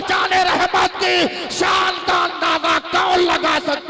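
A crowd at an Islamic religious gathering roars a takbir slogan in response, with loud massed voices shouting in overlapping bursts and rising yells that continue steadily throughout.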